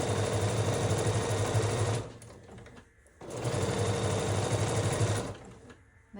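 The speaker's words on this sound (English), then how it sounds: "So let's sew." A sewing machine stitches quilt fabric in two steady runs of rapid, even whirring, separated by a short pause and stopping again near the end, close and clear.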